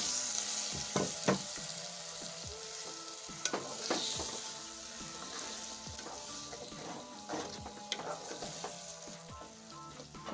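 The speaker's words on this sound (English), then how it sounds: "Then stir everything together" Tomatoes are stirred into unripe green bananas (matoke) cooking in a pot, with a spoon scraping in irregular strokes over a soft, continuous sizzle at close range.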